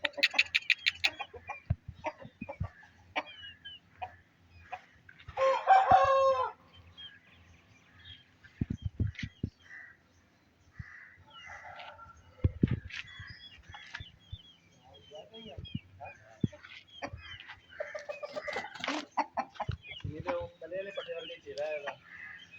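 Rooster and hens crowing and clucking in a kept pair of fowl, with a loud crow near the start and scattered clucks and calls throughout, close by, with someone talking over parts of it.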